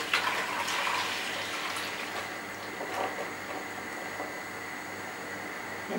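Hot milk with fish and prawns pours through a colander, a faint, steady watery gush and splash that runs continuously with a few small clatters.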